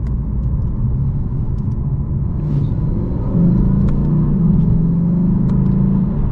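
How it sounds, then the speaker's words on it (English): A 2020 Lexus RC F Track Edition V8 rumbles steadily from the cabin as it slows, its deep engine note rising slightly partway through during downshifts, with faint clicks on top. "I'm gonna get some downshifts going on right here so I can kind of see what that is like."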